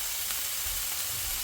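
Soaked glass noodles sizzle and hiss steadily in a hot pan while being stir-fried for japchae, a close, even frying crackle with no talk.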